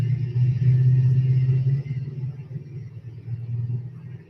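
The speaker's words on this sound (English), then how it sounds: "riding in a Humvee sleep sound white noise" Deep, steady engine rumble from inside a moving Humvee, played as sleep white noise, continuous and droning with slight swells, no voices.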